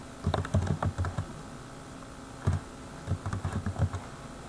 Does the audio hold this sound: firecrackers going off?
no